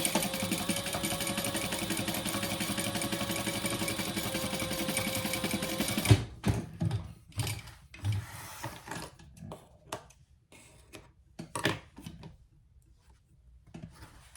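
A sewing machine stitches the sides of a crossbody bag 1/8 inch from the edge, running steadily and close for about six seconds, then stops, followed by scattered clicks and fabric handling.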